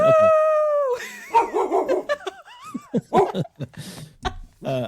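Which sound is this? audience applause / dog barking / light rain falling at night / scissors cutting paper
dog barking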